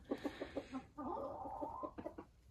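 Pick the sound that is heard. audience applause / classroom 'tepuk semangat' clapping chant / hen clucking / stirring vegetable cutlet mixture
hen clucking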